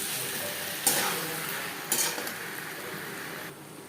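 Spices and fish curry stirred in a pan, a steady soft sizzle with two sharp scraping strokes standing out, loud and close, no talk.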